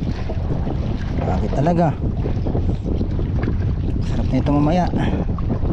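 Strong wind roars steadily over the microphone on a boat at sea, loud and continuous, with people talking over it.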